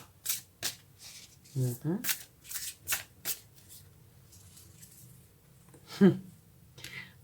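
Tarot cards being shuffled by hand, a series of quick riffling bursts and soft slaps in an irregular rhythm, close and clear, with a voice speaking briefly in between.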